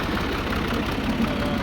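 A tractor engine idles steadily close by, a continuous low chugging rumble with even pulsing and no speech over it.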